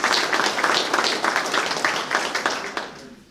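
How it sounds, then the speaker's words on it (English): Audience applause at a school district board of education meeting, a crowd of moderate size clapping steadily in a room before the clapping thins and fades away near the end. "if we could give her a round of applause"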